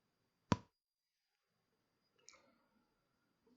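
Two isolated computer mouse clicks in a quiet room, a sharp close click followed about two seconds later by a fainter one.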